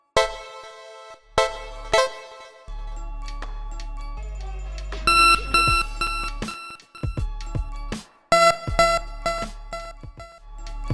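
A self-made synth plugin patch with minimal decay and zero sustain plays short, clipped plucky notes in a rhythmic pattern, layered over deep bass tones and percussive hits, loud and up front with no talking.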